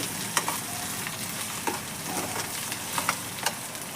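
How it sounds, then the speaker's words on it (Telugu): Onions fry and sizzle in a pan for a curry, with a steady hiss and occasional sharp clicks as a spoon stirs and scrapes through them. "ఇలా కలుపుకున్నాక పచ్చివాసన పోయేదాకా వేపుకుందాం."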